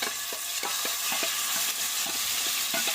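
Paneer fries in hot oil with a continuous bright sizzle, while a spatula stirs and turns the cubes in short regular scrapes and taps, close up and with no voices.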